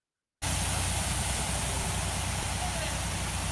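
Water bursts from a fire hydrant through a 4-inch hose, starting abruptly after a moment of silence and then roaring as a steady, even hiss with no voices over it.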